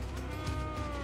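A cow moos once in the video game Final Fantasy XIII-2, a low, drawn-out bovine call of about a second, fairly loud against the game's background music.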